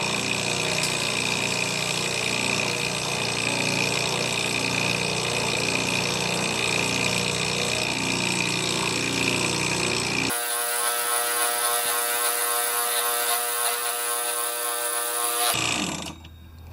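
A John Deere A18 pressure washer runs steadily close by with a loud mechanical drone and pump whine, its tone shifting partway through before the engine cuts off near the end.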